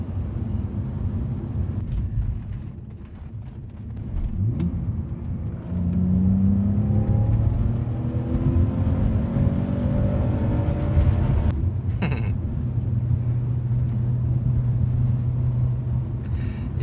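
Steady engine rumble and road noise from inside a moving car, with a smooth rise in revs as it accelerates, then a continuous cruising hum, close and moderately loud with no talking.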